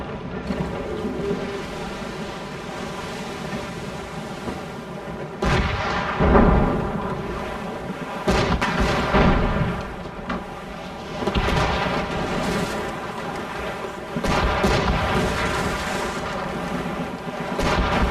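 Ship cannons firing in Assassin's Creed Rogue during a naval battle, heavy booming blasts recurring every few seconds over a constant roar of sea and wind, loud and close, with no talking.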